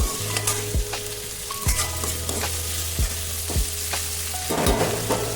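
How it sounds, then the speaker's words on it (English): Onion, tomato and green chili fry in a pan for a paneer sabzi. A close, continuous sizzle is broken by repeated scraping stirs of a spoon against the pan. "we'll fry for 2 seconds just to kill the odor of the onion"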